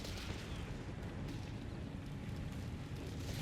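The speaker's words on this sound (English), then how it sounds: "Artillery's hitting the Panzer Pioneer" Artillery shells strike a German Panzer Pioneer vehicle in Company of Heroes 3, a continuous rumbling barrage of dull booms and crackling blasts at moderate distance with no break.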